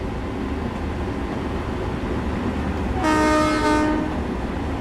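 A big Long Island Rail Road train in Train Sim World 3, approaching New York Penn, rumbles past steadily, then gives a brief, loud, tonal horn blast lasting about a second.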